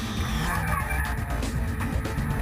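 Swift race cars in an Australian Swift Racing Series speedway-style slide through a final right-hand corner, with a continuous loud roar of engines and tyre noise from close by.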